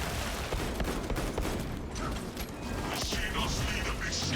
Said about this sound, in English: Reloading weapon. That's where you bring the bolt pistol.